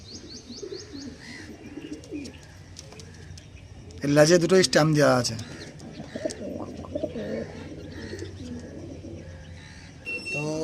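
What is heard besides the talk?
pigeons cooing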